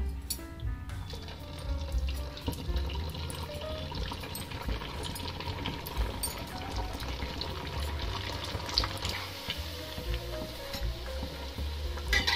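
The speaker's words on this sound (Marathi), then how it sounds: "आता आपण हे वडे तळून घेणार आहोत तुपामध्ये" Sabudana vadas sizzle steadily in hot ghee, a continuous close crackling and bubbling fry that holds at an even level throughout with no talking.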